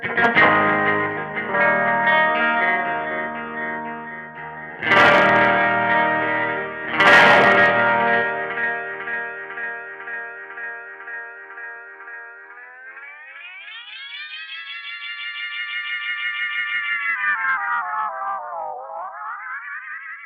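A distorted guitar tone through an overdriven BOSS RE-20 Space Echo pedal smears into swelling echo repeats, then becomes a loud, self-oscillating feedback whine that glides up in pitch, wavers, and dips.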